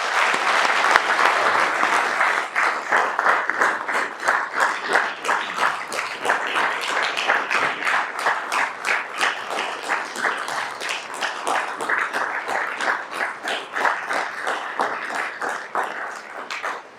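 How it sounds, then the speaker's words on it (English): A large audience at the 55th annual H. Thomas Guerry awards ceremony claps in loud, dense, sustained applause that carries evenly for many seconds before tapering at the very end. "let's give them all one more great round of applause"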